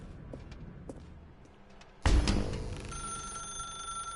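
A telephone rings inside the video game The Stanley Parable, starting abruptly after a quiet stretch with a few soft taps and then carrying on as a steady, fairly loud ring to the end.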